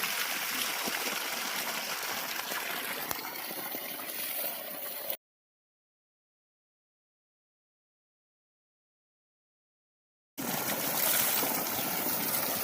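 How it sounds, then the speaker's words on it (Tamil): Water from a 3-inch delivery pipe on a 3hp solar-powered farm pump rushes loudly and steadily, a broad continuous gush with a gap of total silence in the middle and no speech. "மூடி இருந்தாலும் தண்ணி வந்துகிட்டே தான் இருக்குது"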